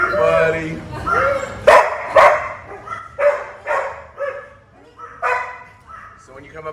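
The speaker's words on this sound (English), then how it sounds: "He barked and it caused the border collie to go all crazy because border collie wants somebody to play with." Several dogs, including a border collie, bark in a husky bar and cafe, giving a run of sharp, loud, close barks and yips in irregular bursts, with a few quieter whimpers between them.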